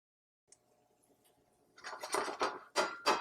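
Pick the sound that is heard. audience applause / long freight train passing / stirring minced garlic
stirring minced garlic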